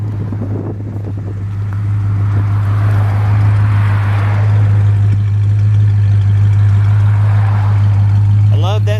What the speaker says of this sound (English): to let you hear the exhaust